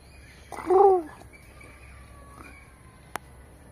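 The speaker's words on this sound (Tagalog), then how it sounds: "Ito yung balud. Anong English ng balud? Pigeon." A pigeon gives a single short, soft coo, close and clear against quiet background hiss, followed by a faint click.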